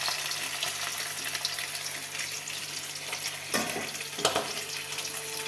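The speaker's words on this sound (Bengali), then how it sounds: "মাছটা এত পরিমাণে ফুটতেছে" A large fish bubbles and fries hard in a pan, giving a dense, continuous sizzle with a couple of louder spits and pops near the end, close up and with no voices.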